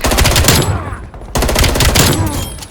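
FFAR assault rifle firing in Black Ops Cold War, two loud rapid automatic bursts separated by a brief gap, close and punchy.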